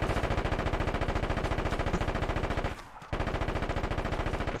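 Sustained rapid automatic gunfire in the tactical shooter Ground Branch, a loud steady burst of closely spaced shots that cuts out briefly near the end before resuming.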